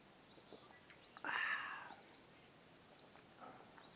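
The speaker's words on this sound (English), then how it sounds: "Birds are chirping around, you can hear them." Faint, scattered bird chirps outdoors, with one brighter burst of twittering partway through over a soft background hush.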